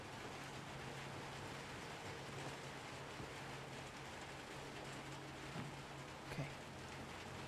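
Steady rain in the video game Little Nightmares 2, falling during a zipline ride, a dense, even hiss that stays constant throughout at low volume with no voices over it.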